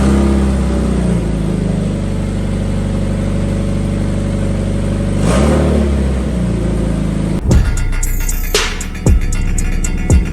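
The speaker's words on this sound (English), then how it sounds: "Let's get a cold start." A Subaru that sat unused for a long time cold starts and settles into a steady, loud idle with a brief rev midway, followed by a clunk and rattling handling noises near the end.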